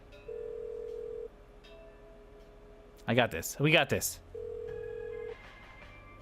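A phone in the Kathy Rain video game rings twice, each a steady electronic tone about a second long, separated by a short burst of speech in between.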